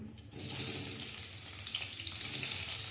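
Pieces of paneer dropped into a hot kadai over fried potato chunks, giving a steady wash of sizzling that swells after the first moment and keeps hissing close by, with no voices.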